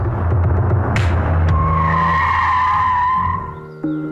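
A car races fast in a Hindi-dubbed South Indian action film scene. A loud engine roar blends with a tire-squeal whine, then drops away near the end, followed by a short thump.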